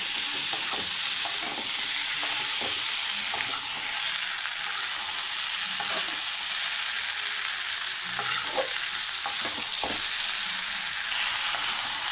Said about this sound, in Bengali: দিয়ে এবার ভালো করে মশলার সাথে কষে নেবো এটা।